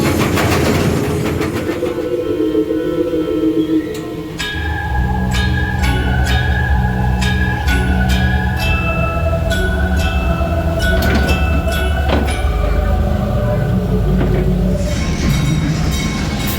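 Montezooma's Revenge, a classic early-1960s roller coaster at Knott's Berry Farm, rumbles loudly along its track with a heavy rolling roar, clanks, and high metallic squeals from the wheels that build over the ride.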